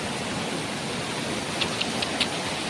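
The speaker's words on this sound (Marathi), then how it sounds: "एवढा मुसळधार पाऊस चालू आहे बघा" Heavy monsoon rain with drain water overflowing, a dense continuous roar of falling and rushing water, close and loud, with a few faint taps near the end.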